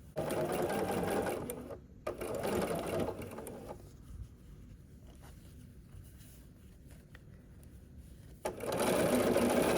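A home sewing machine stitches a seam across a foundation paper-pieced quilt block in three loud, close whirring bursts, with a quieter pause in the middle where faint handling of the fabric is heard.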